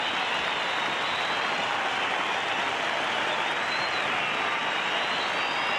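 Crowd at a 1983 Australia versus Pakistan Test cricket match applauding a batsman's half-century, a dense, steady wash of clapping from a large distant crowd with no gaps.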